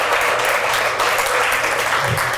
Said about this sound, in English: another round of applause is called for